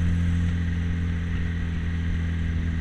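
A restored 1958 MGA Twin Cam drives on the road on a cold morning, its engine giving a loud, steady low drone with a constant hum and road rumble close up and no break.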